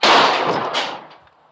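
A single sharp gunshot from a 5.7x28 firearm loaded with a 68 grain bullet cracks loudly, then decays over about a second outdoors.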